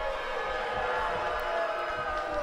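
A wrestling crowd at an N.E.W. Brawl event reacts with displeasure, a continuous broad murmur of many voices filling an arena, moderately loud and steady without distinct cheers.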